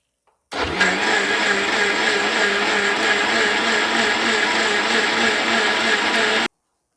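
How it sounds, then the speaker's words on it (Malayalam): A kitchen mixer jar blending grated coconut with water to make coconut milk, whirring loudly and steadily for about six seconds, then cutting off abruptly into silence. "തേങ്ങ ചിരണ്ടിയത് മിക്സിയുടെ ജാറിലിട്ട് കുറച്ച് വെള്ളം കൂടെ ചേർത്തിട്ട് നമുക്ക് ഒന്ന് ബ്ലെൻഡ് ചെയ്തെടുക്കാം"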